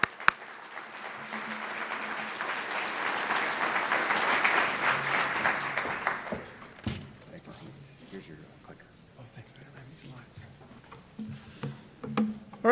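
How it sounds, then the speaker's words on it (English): An audience at a plenary session applauds to welcome a speaker, a steady wash of clapping that swells for about six seconds and then dies away to scattered claps and faint room sounds. "Please give me a warm hand in welcoming Ricardo Aguilera."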